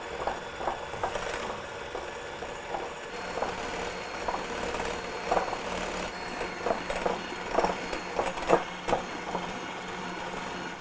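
Egg whites being whisked toward firm peaks give off a soft, rapid rhythmic ticking and scraping against a bowl, fairly faint and continuous, with no voices.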